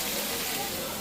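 Bottle gourd tossed with spices in a frying pan makes a brief, even sizzle up close, ending with a quick clatter of the stirring utensil.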